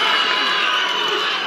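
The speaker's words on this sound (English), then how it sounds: "The crowd surging" A boxing arena crowd roars in a dense, sustained wall of cheering and shouting during a world title bout in Australia, loud and continuous throughout.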